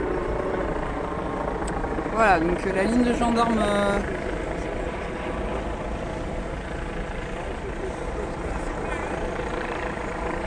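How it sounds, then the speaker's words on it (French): A gendarmerie helicopter hovers overhead at a street demonstration, its steady low rotor and engine drone running throughout while someone speaks briefly over it. "On a toujours l'hélico de la gendarmerie au-dessus de nous."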